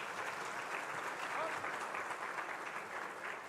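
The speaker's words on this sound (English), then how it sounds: "And now we'll take that applause that you gave them earlier." Steady applause from a large crowd, even and sustained throughout, heard from a distance without a break.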